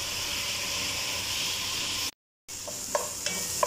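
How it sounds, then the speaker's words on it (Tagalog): Onion and garlic sauté in a pan, giving a steady close hiss and sizzle with a few soft stirring clicks. A short silent break interrupts it partway through. "ginigisa na natin ang sibuyas para malasa. Ayan, pwede na natin ilagay ang bawang."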